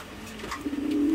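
Fancy pigeons, including zebra-necked and German Beauty birds, give a brief, soft, low coo that swells near the end of the moment.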